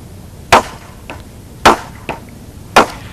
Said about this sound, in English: and hammer it into the top